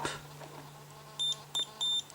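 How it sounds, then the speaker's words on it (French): Three short, high electronic beeps from a multimeter in continuity mode sound in quick succession against a quiet background with a low steady hum. "On le met en mode continuité pour avoir le bip."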